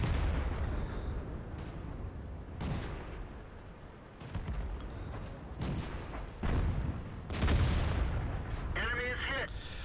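Tank guns fire in the World of Tanks game on the Westfield map, with several heavy booming shots and explosions spread across the stretch over a rumbling battle background, moderately loud.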